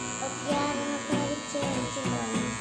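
Electric hair clippers buzz through a child's haircut at a barber shop, a steady close hum that rises and dips in brief pulses as the blades move through the hair, with soft voices in the background.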